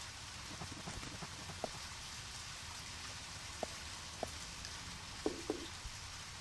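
Rain falls steadily in the Deadly Premonition game world, a quiet even hiss of drops on surfaces with a few faint, isolated taps and knocks standing out.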